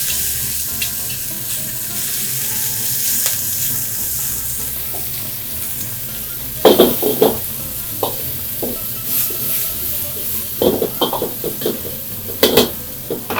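Small peeled shrimp sizzle and fry in a pan, a steady close crackle of hot oil punctuated by scraping and clinking of a utensil against the pan.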